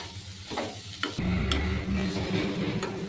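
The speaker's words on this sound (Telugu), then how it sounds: "తర్వాత తరిగిన క్యారెట్ తురుము వేసి బాగా కలుపుకోవాలి." Grated carrot is stirred into onions, chillies and curry leaves in a hot pan for carrot rice; a louder frying sizzle swells after a second and continues under soft stirring clicks, no speech.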